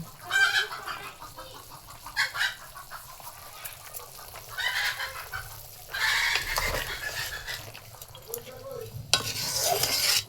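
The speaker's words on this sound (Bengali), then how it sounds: "এবার আমি ভাজা গুঁড়া মশলা দিয়ে দিব" A spoon stirs and scrapes through a duck meat curry in a pan after roasted ground spices go in, coming in irregular bursts. Chickens cluck and a rooster crows faintly in the background.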